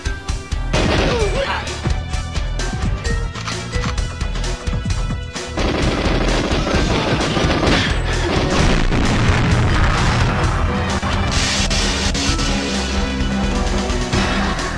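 Rapid gunfire and booming explosions from the Nintendo 64 game GoldenEye 007, dense and loud, blended with game music and someone talking over it.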